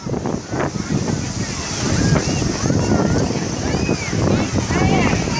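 Sea waves surge and wash against the shore amid gusty wind buffeting, with voices chattering faintly in the background.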